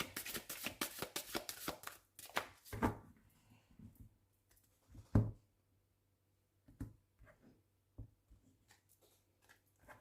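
A deck of oracle-style reading cards is shuffled close by. A rapid train of crisp riffles fills the first two seconds or so, then scattered taps and soft card handling follow with quiet gaps.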